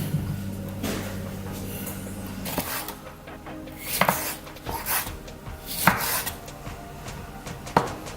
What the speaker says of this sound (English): So next we're going to cut up our cucumbers and tomato.